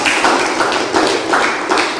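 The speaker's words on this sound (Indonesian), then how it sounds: "berikan tepuk tangan untuk penanya dan menjawab" A classroom group gives a brief round of hand clapping for a student questioner and answerer, a short burst of close, dense claps.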